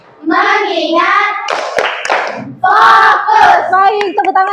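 A group of young pupils in an Islamic school class chant the tepuk fokus routine together, loud unison voices punctuated by crisp clusters of hand claps, ending in a final shouted phrase.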